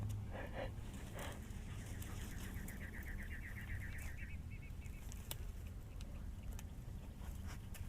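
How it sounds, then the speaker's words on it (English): Faint bird chirps and a short rapid trill at a campsite in a park over a steady low background rumble, distant and quiet. "I love those birds."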